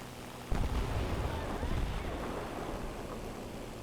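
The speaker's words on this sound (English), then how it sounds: "And bombs away." Aircraft-dropped bombs exploding in War Thunder: a sudden deep blast erupts, then a heavy rumbling roar of continued explosions and debris that lingers loudly and slowly settles.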